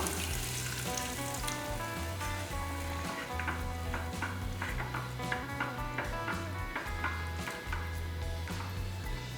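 Continuous bubbling and sizzling of tomato egg gravy simmering in a pan on the heat, steady and close, with soft music playing underneath.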